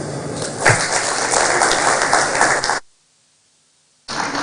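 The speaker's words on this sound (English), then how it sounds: "Let's give him a bigger round of applause." An audience at a cancer commission launch event in Accra bursts into loud, sustained applause for nearly three seconds, then falls abruptly silent before the clapping returns briefly at the end.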